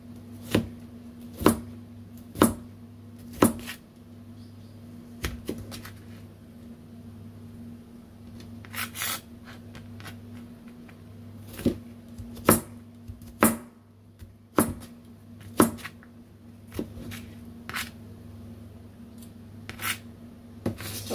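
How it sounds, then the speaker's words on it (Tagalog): A knife slices cucumber for salad in a kitchen, giving sharp, separate chopping taps, close and fairly loud, in uneven clusters with quiet gaps between them. "Ganito po yung paghiwa natin para sa salad"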